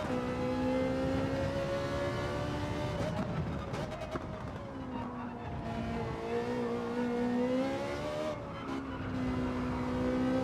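A Ferrari race car engine in Gran Turismo 7 drones steadily, its pitch rising and falling through gear shifts and corners, with brief tire noise and a voice talking over it.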